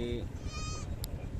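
Goats in a pen on a livestock farm give a couple of short bleats, one near and one fainter, over steady background rumble and noise.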